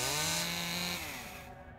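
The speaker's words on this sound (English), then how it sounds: "Still more chainsaws." Chainsaw in the horror game Death Mark, a loud buzzing engine whine that holds steady and then slides down in pitch, tailing off at the end of a brief burst.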